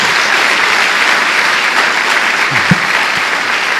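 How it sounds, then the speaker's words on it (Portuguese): A congregation claps steadily and loudly at a church service, dense applause filling the whole moment with a brief knock near the end. "Uma salva de palmas ao Senhor."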